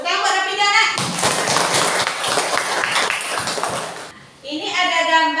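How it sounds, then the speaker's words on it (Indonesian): A class of children claps for a student during a lesson on the movements of prayer, a dense burst of many small hands lasting about three seconds, with a teacher's voice before and after. "tepuk tangan buat Rafidah nak"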